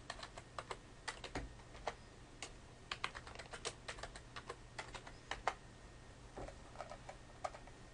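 Someone taps out a password on a computer keyboard, producing quick, irregular key clicks at close range against a faint, steady background hum.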